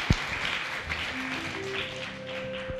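Steady clapping from a small group of children, a continuous patter of hands with a few louder claps standing out, and some faint tones underneath.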